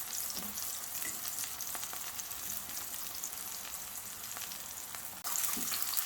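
Eggplant slices fry in a pan with a steady, bright sizzle and faint crackle, close and continuous, briefly interrupted before the sizzle resumes slightly louder, with no talking.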